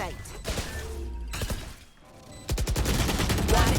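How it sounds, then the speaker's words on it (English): Rapid gunfire bursts from the competitive shooter Valorant during a tournament match, loud and dense, mixed under excited casters' talk with a brief lull before a heavier volley. "You just got riddled with bullets, homie."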